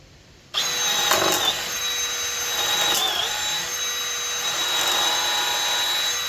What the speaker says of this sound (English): And 5 quick holes with the Milwaukee.